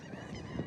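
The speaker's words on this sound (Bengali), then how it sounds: "কি সুন্দর পাখির ডাক দেখছেন" Birds calling outdoors on a fine-weather day, a brief faint honking cry like geese or fowl, heard at a distance against open-air background noise.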